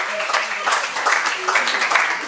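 Audience applause at an outdoor gathering, a steady close patter of clapping with voices mixed in underneath.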